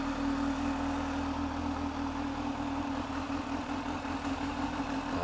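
A Kawasaki Z H2 supercharged motorcycle engine runs steadily on a dyno, holding a constant loud drone with a strong low hum throughout and no rise in revs.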